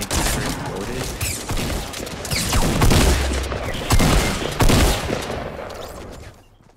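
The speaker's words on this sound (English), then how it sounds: "My nades are exploded." Grenades exploding in the video game 14 Days, loud repeated blasts mixed with bursts of gunfire in a chaotic run that fades out at the end.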